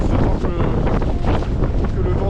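Strong wind roars through a forest during a storm, a dense, continuous close rush with slight gusting swells and no pauses.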